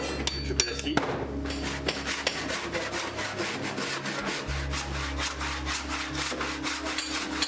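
Rhythmic rasping strokes of a hand saw cutting through wood, steady and close, with a low hum in the background.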